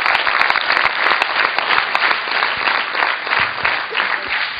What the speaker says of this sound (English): Loud claps for Bhushan and Arjun.